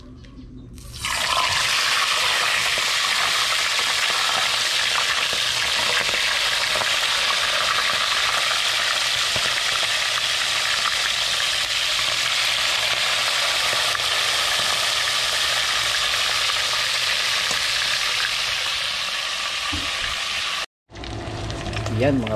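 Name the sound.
fish frying in pan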